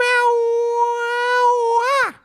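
A person imitates a cat's long, drawn-out meow: one sustained, clear voiced tone held for about two seconds before bending up and dropping away at the end.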